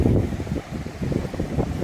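Strong wind buffets the microphone at Pudupattinam beach in the Delta region, a loud, continuous low roar with rolling sea waves churning underneath.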